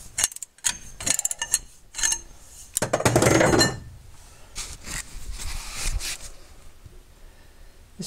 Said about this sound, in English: So now, I'm going to take out these bolts.